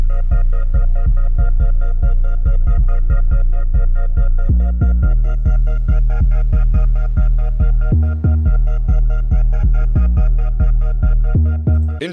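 An electronic jersey club beat made in FL Studio plays loud and clear, with punchy bass kicks and bouncy chopped synth stabs in a driving, syncopated rhythm.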